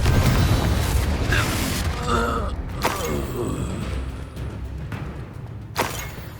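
A spell blast in the video game Hogwarts Legacy, a heavy rumbling boom with creaking, grinding debris that swells and decays over several seconds, with a voice calling out over the start.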